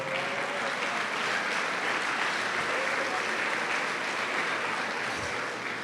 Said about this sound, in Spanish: Bueno, un aplauso al Señor.